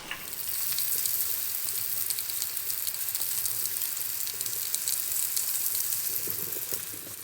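Meatballs browning in a pan for a rigatoni dish give a steady, close sizzle and crackle of frying fat, dense and even throughout with scattered pops and no talking.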